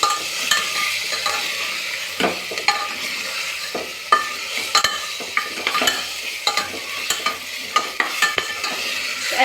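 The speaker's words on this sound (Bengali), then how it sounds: "চিকেনটা আমি দিয়ে দেবো তো চিকেনটাও আমি কিছুক্ষণ বেশ নাড়াচাড়া করে নেবো" Chicken sizzles and fries in oil inside a pressure cooker while a spoon stirs it, with sharp scraping clicks against the pot recurring throughout, close and steady.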